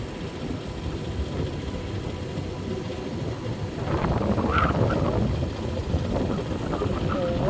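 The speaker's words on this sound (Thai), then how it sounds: "ลมแรงมาก ลมแรงมากเลยนะคะ" Strong wind roars and buffets a microphone outdoors in a town, a continuous rumbling gust that swells louder midway, with faint voices underneath.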